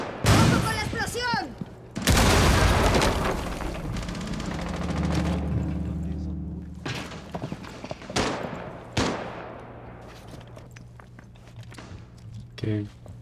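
In the Rainbow Six tactical shooter game, a loud explosion and bursts of gunfire crack through the scene amid scattered footsteps and impacts, with players talking throughout.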